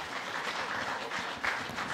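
A rugby stadium crowd at a France versus Georgia match applauds the French winger, a broad, fairly distant wash of clapping and crowd noise that swells briefly near the middle.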